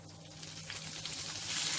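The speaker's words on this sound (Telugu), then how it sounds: "మీడియం ఫ్లేమ్లో ఒక నిమిషం ఫ్రై చేసుకోవాలి" Cashews and curry leaves sizzle in a pan of hot oil over a medium flame, a soft, steady crackling hiss that grows slightly louder toward the end, with no voices.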